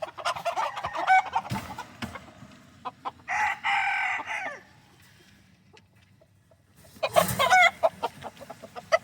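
Bantam Malay rooster in a cage crowing loudly and close, two long crows separated by a quiet stretch, with clucking and rustling around them.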